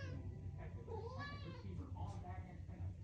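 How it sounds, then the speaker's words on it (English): A hungry pet cat meows for food in a few drawn-out, rising calls, heard faintly indoors over a low steady hum, with quiet human talk in the background. "You're gonna meow me for like 20 minutes straight."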